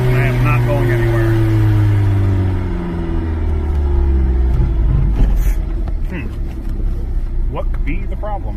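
Engine held at full throttle yet losing power, a loud steady low rumble with a drone that sags and wavers, likely a boat motor straining without gaining speed.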